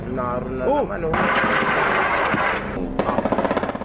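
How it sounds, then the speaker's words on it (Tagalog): Explosions and gunfire in an armed clash prompting evacuations in the Bicol region: heavy booming blasts and sustained roaring bursts, ending in a fast rhythmic string of loud shots, with a reporter's voice briefly at the start. "nadangog ng mga pagsabog asin riribayanin putok nin badil"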